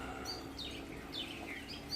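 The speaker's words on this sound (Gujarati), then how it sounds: "પક્ષીઓ આવવા લાગ્યા છે દોણા ખાવા માટે" Birds arriving to eat grain scattered on a farm, giving a few faint, scattered chirps over a steady background hum.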